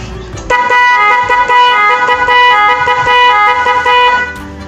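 A loud, steady two-tone dual horn being tested on a Honda Click motorcycle blares continuously for about four seconds after a brief pause, bright and close, with faint voices underneath.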